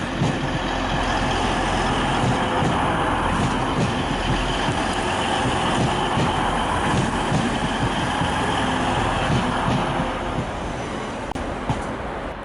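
A Class 185 diesel multiple unit at Manchester Piccadilly station, producing a steady rumbling engine drone with broad station noise that holds at an even level throughout.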